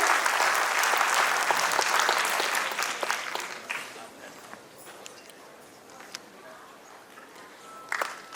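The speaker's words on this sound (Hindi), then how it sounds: "जोरदार तालियों से इनका अभिनंदन करेंगे।" Loud sustained applause from an audience at a felicitation ceremony for neo-literates in Chandigarh, dense at first and then thinning into scattered claps with light background voices.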